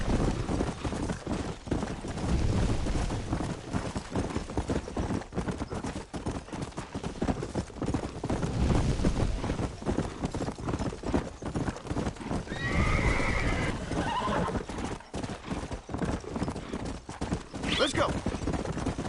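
Hooves clip-clop in a fast gallop across Red Dead Redemption terrain, a rapid steady rhythm throughout, with a horse whinnying loudly a couple of times later on and scattered game sounds mixed in.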